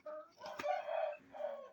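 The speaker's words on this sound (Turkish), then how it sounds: "Ziraat tavuğu yine hıkır hıkır ediyor." A hen in a backyard coop gives a loud, close, drawn-out clucking cackle in two phrases, heard alone without speech.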